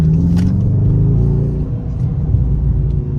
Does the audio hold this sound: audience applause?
no